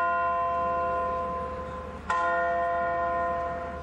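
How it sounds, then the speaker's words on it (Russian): A large church bell rings in Kazan during a Victory Day celebration, one sustained resonant toll decaying, then a fresh loud strike at two seconds with a long humming ring, like a clock chiming the hour. "Звон колоколов, часы бьют ровно 10"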